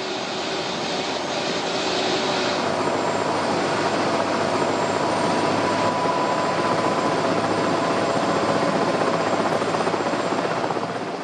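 An Écureuil helicopter takes off at close range, its turbine whine and rotor chop loud and continuous throughout, with no voices.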